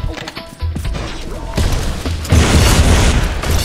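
Heavy booming shotgun blasts from the video game Pixel Gun 3D, several loud thuds and bursts in quick succession with dense gunfire-like crashes that build louder toward the end.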